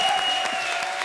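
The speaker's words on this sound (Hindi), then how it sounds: "हो जाए एक बार जोरदार तालियां जावेद भाई के लिए" Studio audience on a Hindi TV comedy show breaks into loud applause for a performer, steady dense clapping over a sustained tone, with no talk on top.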